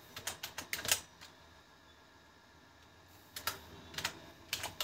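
Typing on a computer keyboard while building a Flutter to-do app, with quick bursts of close, crisp key clicks, then a pause of near silence, then more rapid clicking.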